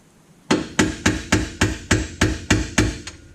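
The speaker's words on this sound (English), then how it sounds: "take a flathead screwdriver and our hammer" Metal hammer blows strike a flathead screwdriver to drive out a small washer during a Mazda Miata clutch and flywheel job, ten sharp, evenly spaced hits about a third of a second apart, close and loud with nothing else heard.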